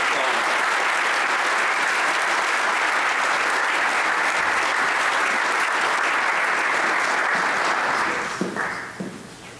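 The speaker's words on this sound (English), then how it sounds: "Let's please give them a round of applause." An audience at a high school scholarship night claps in a sustained, dense round of applause that holds steady for several seconds before thinning out near the end, with some brief speech-like sounds as it fades.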